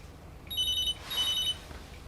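A telephone rings twice in a short electronic trill, each ring lasting about half a second, fairly quiet over a low background hum.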